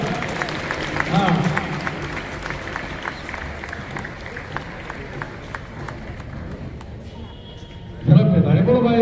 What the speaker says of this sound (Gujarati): તાળીઓના ગણગાટ લગાવો ભાઈ